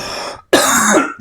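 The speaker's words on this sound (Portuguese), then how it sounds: "lá vou eu tossir de novo" A person coughs twice in quick succession, close and harsh, with a short pause between the bursts.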